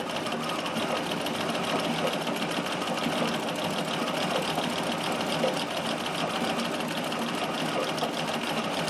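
A Singer Circular Stitcher attachment runs on a sewing machine doing zigzag stitching, with a steady, fast, close mechanical chatter that holds unbroken throughout.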